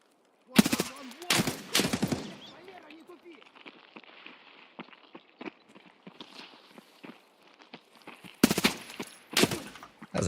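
Shooter-game gunfire: loud sharp shots at the start and again near the end, with quieter footsteps and clatter between and a voice speaking over parts of it.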